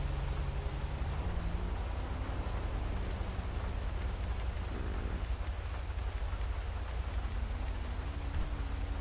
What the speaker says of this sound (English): Man, I'm getting tired of this rain.